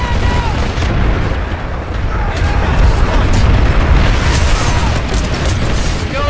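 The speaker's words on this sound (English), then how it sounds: "come on, throw nades, throw nades!" Grenade blasts in a PUBG match, heavy booming explosions with rumbling low end rolling over one another amid constant gunfire-like noise, loud and close, with players shouting over the action.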